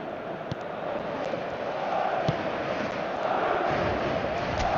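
Impatient stadium crowd in the eFootball 24 football video game, a steady broad roar of many voices that swells slightly midway and holds without a break.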